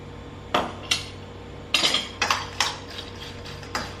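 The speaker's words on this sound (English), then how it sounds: "Give it a good mix." Sweet corn salad with lemon is stirred in a bowl, the spoon striking the sides in a series of irregular, moderately close clinks and scrapes, with no talk.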